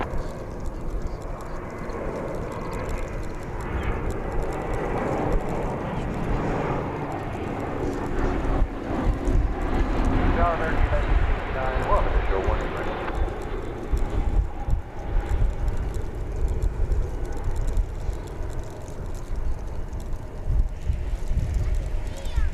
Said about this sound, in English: That's American 1025 arriving from Tucson, Arizona, in Airbus